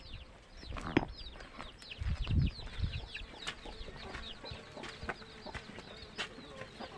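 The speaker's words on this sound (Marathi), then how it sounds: "हे बघा माझ्या कोंबड्या आताच मी कोंडून टाकलेल्या आहेत" Hens shut inside a poultry coop cluck and chatter in short, overlapping calls at moderate distance, with a few louder bursts and rustling scuffles against a quiet background.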